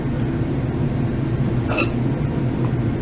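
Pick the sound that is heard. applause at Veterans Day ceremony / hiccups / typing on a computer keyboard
hiccups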